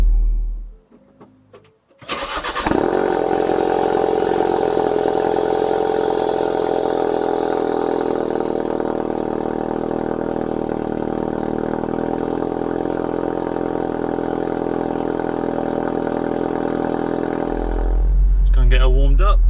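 A Ford Focus RS fitted with the Mountune M400R upgrade starts up and settles into a loud, steady warm-up idle, a deep continuous engine drone that holds for about fifteen seconds before a change in tone near the end.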